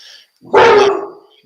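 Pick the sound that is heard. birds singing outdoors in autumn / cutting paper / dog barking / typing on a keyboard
dog barking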